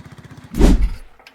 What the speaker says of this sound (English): Seeing a 1950s Agricat mini dozer still running today